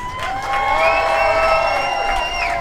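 Audience cheering and applause for Arabic program students at an outdoor Palestinian flag-raising event, a loud sustained crowd roar with clapping and high whoops throughout.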